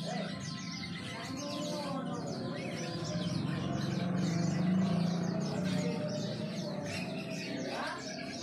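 Cotton mynas (jalak kapas) chatter in a crowded colony cage, a continuous dense mix of overlapping chirps, whistles and calls at close range with a low cooing murmur underneath.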